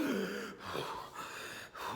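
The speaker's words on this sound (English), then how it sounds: "my breathing is completely gone. I'm gasping." Heavy gasping for breath after a set of wind sprints, ragged breathy inhales and exhales close to the mic, two or three quick gasps with no talking.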